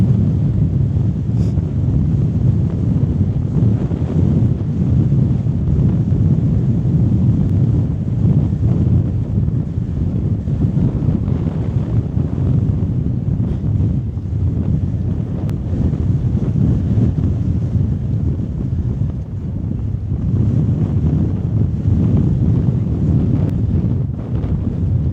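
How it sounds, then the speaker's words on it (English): Strong wind buffets the microphone on an open stretch of sandy beach at Morecambe: a loud, constant, low roar with slight gusts throughout and no other clear sounds. "it's starting to get a bit windier"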